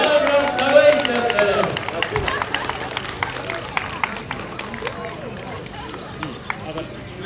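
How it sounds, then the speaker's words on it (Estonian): Scattered clapping and crowd noise at an outdoor summer sports event in Eidapere, Estonia, with a voice calling out over the start before the claps thin into sparse, irregular hits. "Ja aplaus!"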